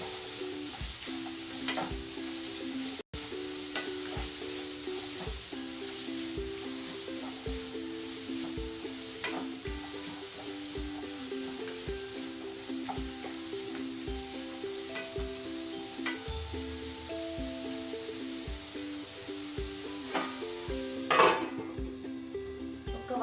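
Grated carrot sizzles softly and steadily in a pan, with occasional light clinks and scrapes from stirring.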